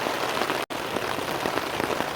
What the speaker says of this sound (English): it is really raining